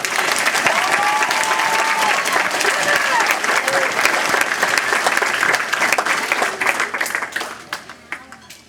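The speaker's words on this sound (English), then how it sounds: "Let's give her one more round of applause." A school audience applauds a performer at a music program, a loud, full roar of clapping that holds steady for most of the stretch, then thins into scattered individual claps as it dies away.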